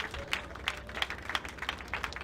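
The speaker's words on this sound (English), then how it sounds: "Please a round of applause as we welcome Sophia." Applause from a graduation ceremony audience welcoming a speaker, scattered and fairly thin, with uneven claps spread across the clip at moderate distance.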